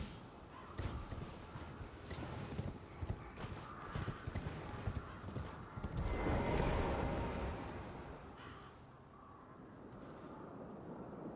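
Horse hooves clip-clop in Elden Ring as a rider travels on horseback, a steady rhythmic trot of close hoofbeats with a brief neigh and wind swelling midway, then fading.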